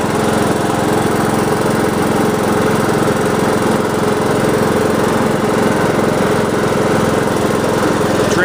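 A Craftsman LT2000 lawn tractor engine runs loud and steady nearby as it drives under throttle with the drive engaged, a continuous rough mechanical drone with no pauses.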